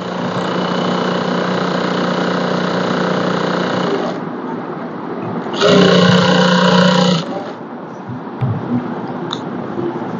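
An electric sewing machine stitches lehenga panels, a close, loud steady whir that runs for about four seconds, pauses, then bursts again briefly, with quieter room hum between runs.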